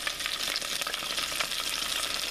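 Battered fish pieces for a copycat Long John Silver's recipe frying in hot oil, a close, steady crackling sizzle with no talk.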